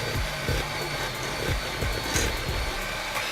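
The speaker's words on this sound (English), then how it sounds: "So we're going to start the mixer here on slow." An electric stand mixer runs on slow speed beating chess pie filling, a steady whirring drone with a soft repeating thump about every half second, close and continuous with no talk.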